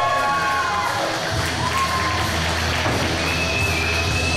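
A wrestling crowd at an MWA event in Lübeck cheers and shouts loudly and steadily throughout, a dense roar of many voices with children's yells mixed in.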